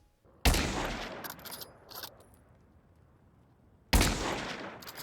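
Two sharp, loud gunshot effects ring out several seconds apart, each a hard crack followed by a decaying tail, with faint clicks and mechanical rattles between them and no speech.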